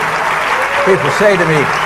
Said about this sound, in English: I know you're trying to applaud